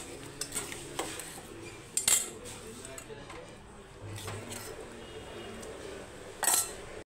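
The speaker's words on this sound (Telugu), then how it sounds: "ఇప్పుడు ఇందులో మనం ఫ్రై చేసుకుని పెట్టుకున్న ఆనపకాయని కలుపుకుందాం." Fried bottle gourd is stirred into cooked sago in a pot, with a spoon scraping and clinking against the metal in a few sharp knocks between quieter stirring, all fairly soft.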